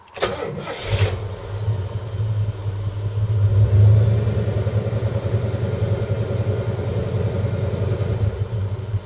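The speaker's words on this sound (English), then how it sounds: "Let's start the engine and see what the oil gauge says." A 1978 Ford LTD engine cranks briefly with a couple of starter bursts, then catches and settles into a steady, close, low rumbling idle that swells slightly before holding even.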